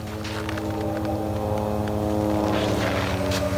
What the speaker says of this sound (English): Dude, that's the plane. You hear that?